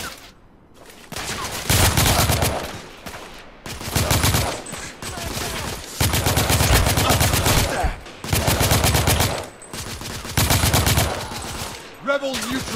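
Sustained bursts of rapid gunfire in The Order: 1886, loud and close, several automatic volleys separated by short gaps, with faint in-game voices underneath.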